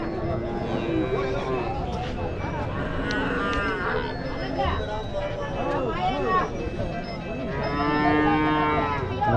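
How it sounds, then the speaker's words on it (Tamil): HF heifers at a cattle market in Krishnagiri district moo loudly and repeatedly nearby, with long drawn-out calls over a busy background of crowd chatter and babble. "நல்லா அருமையான கிடாரிங்க ஒரு ஜோடி"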